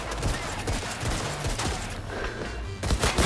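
Shotguns fire in Cyberpunk 2077: Phantom Liberty. The blasts come as rapid heavy booms layered over dense game noise, close and loud throughout.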